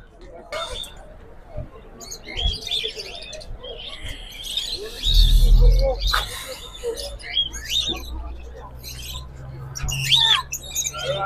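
Birds squawking and chirping throughout a bird market in Dammam, Saudi Arabia, where chickens, pigeons and rabbits are sold, with busy crowd noise, a low rumble midway and voices talking nearby.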